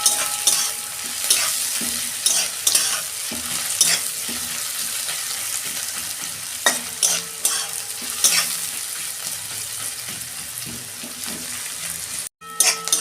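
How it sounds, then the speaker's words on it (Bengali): Onions and green chilies frying in a pan, a constant sizzle punctuated by repeated scraping stirs of a spatula, close and fairly loud, ending with a brief clatter. "আমার পেঁয়াজটা একটু ভাজা ভাজা হয়ে গেছে।"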